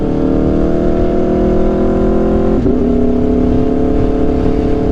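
An Aprilia RSV4 motorcycle fitted with an SC-Project CRT exhaust holds a loud, steady idle-to-rev drone close by, its tone briefly dipping and rising again midway, on a short rainy ride with no speech.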